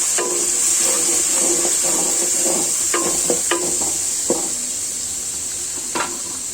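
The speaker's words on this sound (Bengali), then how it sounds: "আমি এখন ডালটা ফোড়ন দিব এখানে চুলায় পেঁয়াজ আদা রসুন এগুলো দিয়েছি" Onion, ginger and garlic frying in a pan to temper dal, a strong steady sizzle broken by several scraping stirs of a spoon against the pot.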